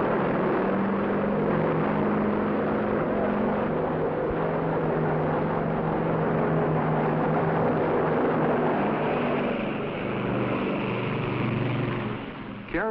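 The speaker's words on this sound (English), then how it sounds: "An S-2F tracker is launched." An S-2F Tracker anti-submarine aircraft launches from a carrier, heard as a steady, loud engine roar with low droning tones that holds throughout and swells slightly near the end.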